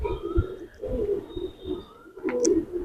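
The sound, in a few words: old breed Tonk pigeons cooing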